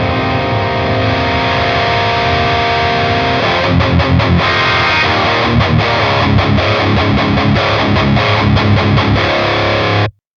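Distorted electric guitar through an ENGL Steve Morse lunchbox amp head with the treble raised, a loud sustained chord that gives way to fast palm-muted chugging before cutting off abruptly, with no talk.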